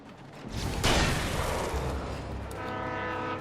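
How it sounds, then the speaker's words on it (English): A train horn in the video game Alan Wake blares loud and sustained over rumbling rail noise, with no talking. "That's a train."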